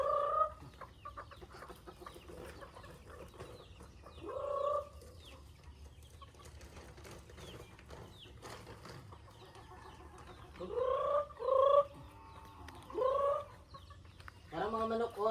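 Chickens cluck in scattered bursts, some close and loud, with quieter stretches of faint background noise between.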